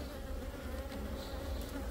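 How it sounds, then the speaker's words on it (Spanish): Honeybees droning at an open beehive during a summer hive inspection, many young bees giving a dense, steady buzz close by with no voices. "Mucha abeja joven."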